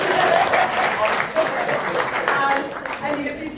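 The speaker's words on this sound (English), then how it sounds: "Can you give them a round of applause?" Clapping from the room at a soccer press conference for the Walter Sisulu Soccer Challenge, a steady, moderately loud patter of applause lasting a few seconds with some voices mixed in.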